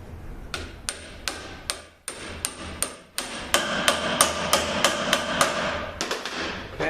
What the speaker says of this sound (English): the first bushing, the larger one, is going to go on this side. I have a large bushing driver